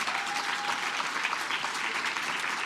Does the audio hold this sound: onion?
no